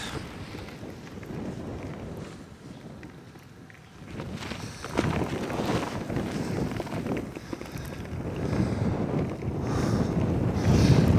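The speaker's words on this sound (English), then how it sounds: "Yo, it's windy out here" Strong gusting wind buffets the microphone in low roaring bursts during a snowstorm by a river, growing louder toward the end, with no clear talk.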